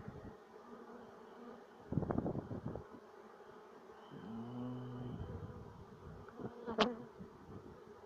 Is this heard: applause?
no